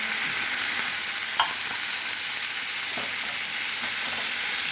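Ginger garlic paste frying with chicken in a pan, a steady broadband hiss of sizzling oil with a few faint clicks of stirring, no one speaking.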